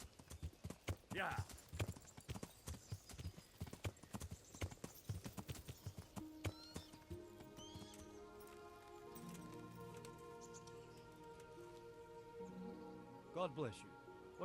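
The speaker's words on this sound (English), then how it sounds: "You know how to turn, horse?" Horse hooves clip-clop steadily in Kingdom Come: Deliverance, a close, rhythmic run of hoofbeats over rain-like ambience that fades as music and game dialogue take over, with a player talking throughout.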